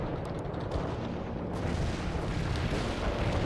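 Artillery barrage in the real-time strategy game World in Conflict, a dense, continuous rumble of shelling and explosions that swells slightly louder partway through.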